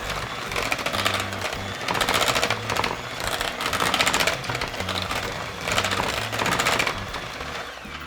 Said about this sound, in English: We'll be blending this together using the hand mixer.